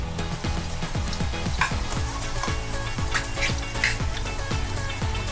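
Liver spread sizzles steadily as it is sautéed in a pan, with a rhythmic scraping stir repeating about every half second under the constant frying hiss.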